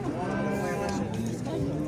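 Cattle at an outdoor livestock market, with low mooing and general animal noise filling a busy, steady background while people talk nearby.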